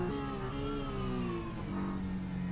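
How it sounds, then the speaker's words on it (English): A GT3 race car engine in a racing sim screams high and strained as it over-revs on a downshift out of a right-hander, pitch sweeping down then holding a harsh tone. "you can hear the engine going over revving and toasting it"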